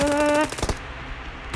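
Pistol gunfire in the video game PUBG: a short burst of rapid shots lasting under half a second, then a few fading cracks over a quiet background, with no talking.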